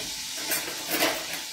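Breaded zucchini flowers fry in hot lard with a steady, close crackling sizzle and a few brief surges of bubbling hiss.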